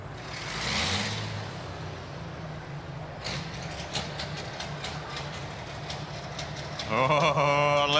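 A 10,000 pound NTPA pro stock pulling tractor engine rumbles and rattles at a tractor pull, building to a louder, harsher roar near the end, with crowd and outdoor noise around it.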